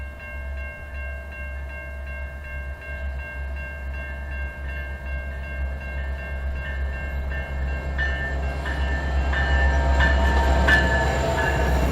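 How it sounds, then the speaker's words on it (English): A Metra passenger train led by a rebuilt EMD SD70MACH locomotive pulls into a station. A deep, steady diesel rumble grows louder as it approaches, with sustained horn tones and rising rail noise toward the end. "We then heard the announcement of an arriving northbound Metra train, and we got set up to watch it pull in."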